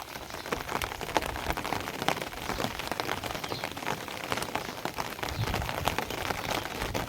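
Rain falls on a flooded farm field, a dense patter of individual drops striking water and wet surfaces, fairly soft and steady throughout with scattered sharper splashes and no speech.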